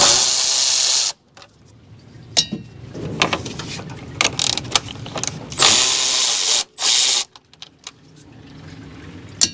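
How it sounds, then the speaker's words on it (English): A ratchet wrench works 10mm bolts loose from the radiator shroud of a Toyota Sienna with a 3.5L V6 2GR-FE engine, heard as loud close ratcheting clicks and metallic clatter broken by brief pauses, with no voices. "Then we can take out the two bolts that hold the shroud to the radiator."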